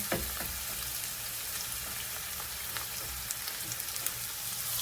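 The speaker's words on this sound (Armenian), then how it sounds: "Սպասենք գազարը տապակվի։" Carrots and meat fry in a pan for a buckwheat dish, giving a steady, dense sizzle with a few crackles and pops, close and continuous, with no voices over it.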